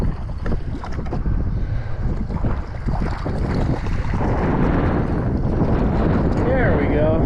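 Wind blowing on a fishing boat at Flaming Gorge in December: loud, continuous buffeting rumble over the microphone with water and hull noise, while a person talks over it.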